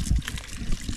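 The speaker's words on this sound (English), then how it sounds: "I've got the water going and it's running pretty good." Water runs from a pipe into a bucket at an off-grid cabin, a short burst of trickling and splashing with low rumbling underneath.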